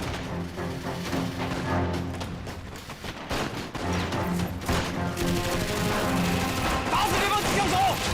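Machine gun fire during a battle in a wartime scene: repeated rapid bursts and crashing impacts under shouting voices, loud and close throughout.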